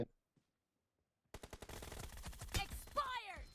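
Video-game gunfire erupts after a short silence, a rapid close burst of automatic shots with dense rattling that continues to the end, mixed with game sound effects.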